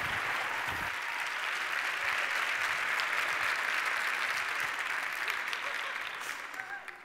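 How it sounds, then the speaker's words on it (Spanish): An audience at a T3chFest 2019 tech conference talk claps enthusiastically, a dense, continuous wave of applause that holds steady before tapering off at the end. "Demos un fuerte aplauso a Almudena Martín Castro."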